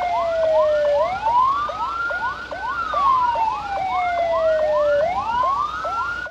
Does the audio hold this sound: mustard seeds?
no